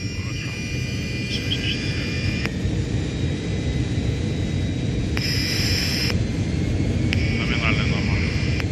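An Antonov An-74 heard from inside the aircraft as its engines drive the takeoff on a flight from Al Maktoum to Kuwait, a steady, loud roar with a whining tone, broken by brief electronic tones.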